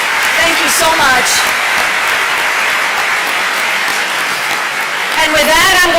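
Sustained applause fills a crowded room at a celebration marking the 20th anniversary of Massachusetts' landmark health care reform, steady and close throughout, with a few brief voices rising through the clapping.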